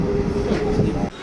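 A train pulling out of a station toward Howrah, heard from beside the open door: a steady, loud rolling rumble of wheels and carriages with faint clatter, dropping off abruptly near the end.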